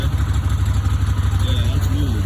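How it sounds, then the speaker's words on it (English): A 2019 Can-Am Highlifter 850 ATV with a starter issue runs loud and close, its engine giving a rough, pulsing low rumble that holds unevenly throughout. "You hear how I revved it and it just wants to die?"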